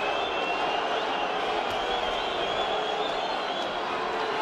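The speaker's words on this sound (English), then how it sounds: "Crowd getting more and more restless." A boxing arena crowd at a professional title fight keeps up a dense, restless murmur with scattered shouts, steady and fairly loud throughout, with no distinct voice standing out.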